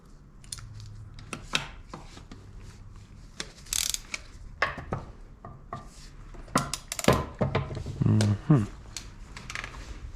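Ratchet working bolts loose on a 2001 Miata 6-speed transmission during disassembly: scattered bursts of clicking and metallic clanks with pauses between, close and fairly loud, with some talk mixed in.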